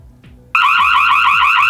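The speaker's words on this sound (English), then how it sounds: "you heard the alarm is quite loud" After a faint click, the loud electronic alarm siren of a LongPlus X87S wireless security camera kicks in abruptly, blaring a steady piercing tone very close by.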